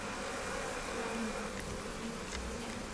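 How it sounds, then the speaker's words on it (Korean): A swarm of native Korean honeybees hums steadily and densely throughout, a continuous close buzz with no voices over it. "올해 4번째 분봉 나온 벌을 받았지만 모두가 다 도망가 버렸다."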